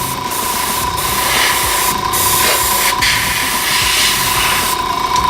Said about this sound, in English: We're going to open up the airbrush and just finish up the red tint in here.